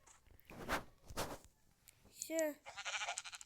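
Sheep bleating in the Minecraft video game, a short wavering bleat near the end following a couple of louder sounds, with faint background noise.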